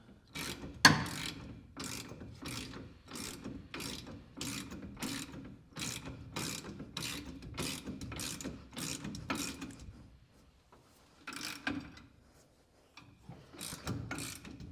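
A hand ratchet tightening bolts on an engine plate in a garage, fast even clicking strokes for about ten seconds, then a pause and a couple of shorter bursts, close and without talk.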